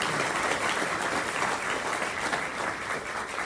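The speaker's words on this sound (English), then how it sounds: "How about another round of applause" An audience at an athletics hall of fame induction ceremony gives a sustained, dense round of applause, steady clapping throughout with no speech over it.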